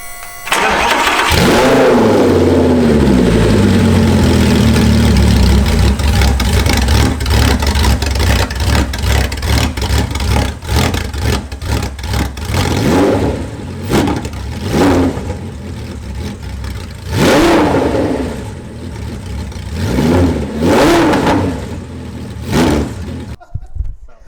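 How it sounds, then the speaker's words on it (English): A straight-piped Audi R8 V10 Plus with open headers cold-starts with a loud bark, then settles into a raw, roaring idle broken by several sharp revs, close and very loud throughout. "It's going to be probably a little bit of a cold start, but open headers is going to be insane."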